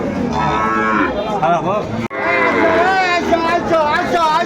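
Cattle, including small bulls and heifer calves, low and moo loudly and repeatedly at a busy livestock haat in Ambari, Dinajpur, with a murmur of crowd chatter underneath.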